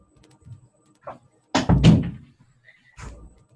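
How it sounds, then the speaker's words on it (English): A door pushed shut indoors gives one loud, close thud with a short rattle, with a softer knock after it and faint handling noises before. "Okay, had to shut the door."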